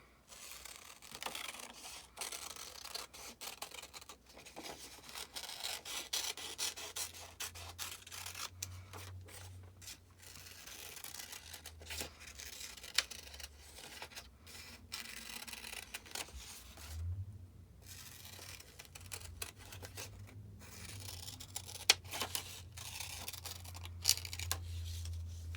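Scissors snip through paper as bat wings are cut out, giving a long run of close, quiet, irregular cuts and rustles with brief pauses.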